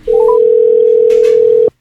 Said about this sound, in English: So I made a phone call.